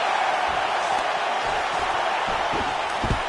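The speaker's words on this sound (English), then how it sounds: "you hear the crowd react every time they come together" A dense, steady roar of a large crowd at a fight fills the space, with a few faint low thumps of strikes beneath the constant murmur.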